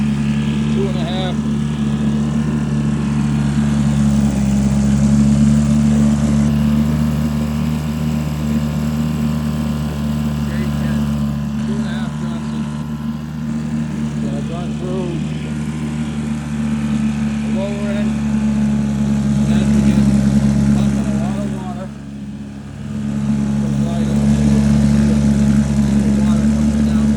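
A vintage 1952 Johnson JW10 3hp outboard motor runs steadily, a loud continuous buzzing drone with a constant pitch that dips briefly near the end before picking back up.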